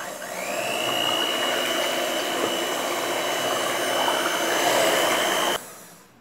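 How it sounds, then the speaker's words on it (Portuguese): An electric hand mixer runs steadily, beating a homemade bar soap mixture made with cornmeal, giving a constant whirring motor drone close by that cuts off abruptly near the end. "Por isso eu vou pegar logo a batedeira"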